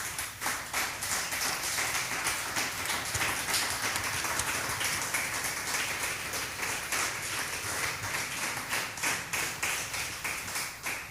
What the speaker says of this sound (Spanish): Dame un aplauso al Espíritu Santo.